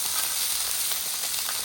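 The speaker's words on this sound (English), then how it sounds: "Now what I like to do is just put the rice on the griddle the way it is." Cooked rice from the night before sizzles on a hot flat-top griddle for fried rice, a steady close hiss of frying with no talking over it.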